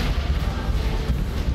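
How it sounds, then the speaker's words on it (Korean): Basilisk artillery bombardment in a Warhammer 40k video game, a dense, continuous low rumble of distant shelling and booms rolling on without pause. "지금 바실리스케 포격 꾸준히 날려주고 있습니다"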